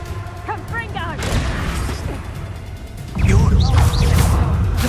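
A Confringo blast spell going off in Hogwarts Legacy combat, crashing, booming impacts amid game effects and shouting voices, growing louder and denser in the second half.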